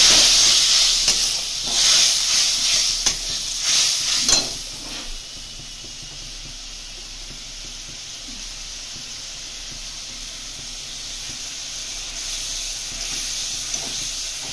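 Korean-style tengra fish curry with soy sauce and spice powder sizzling in a pan, a strong hissing crackle with bursts of stirring early on, then settling into a steadier, quieter simmering hiss.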